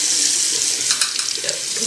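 Tap water runs steadily into a sink while a knife is washed, a close, continuous hiss and splash with small shifts as the blade moves through the stream.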